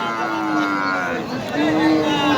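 A Jersey cow at a large cattle market lowing in two long, loud moos, close by over steady crowd murmur and background voices.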